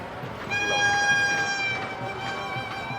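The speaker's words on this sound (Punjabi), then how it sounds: "ਆ ਟ੍ਰੇਨ ਆ ਗਈ ਬੱਚੇ ਵਾਲੀ ਤੇ ਆ ਗਈ ਡਰੈਗਨ ਟ੍ਰੇਨ" A children's dragon train ride at a fair in Jarg, Punjab sounds a long, steady multi-tone horn blast over a busy background hum, starting abruptly and holding for a couple of seconds.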